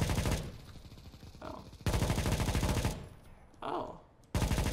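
Negev machine gun in CS:GO firing in long, loud, dense bursts separated by short pauses, each burst a rapid stream of close shots.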